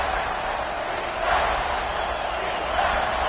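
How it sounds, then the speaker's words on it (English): Home stadium crowd noise for Auburn in the college football video game NCAA 26 on a third down, a steady broad roar of cheering that swells slightly at moments, with no talk over it. "This Auburn crowd trying to conjure up a little magic here on 3rd down."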